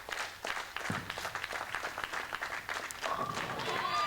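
Spectators at a televised bowling match applaud in a steady, moderately distant patter, with a commentator talking over the clapping throughout.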